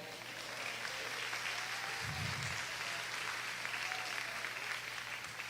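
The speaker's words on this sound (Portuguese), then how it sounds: "Quem pode aplaudir, aplauda ao Senhor" Church congregation applauding the Lord during a Sunday celebration service, a steady wash of clapping from a crowd, fairly faint and constant throughout with a low hum beneath.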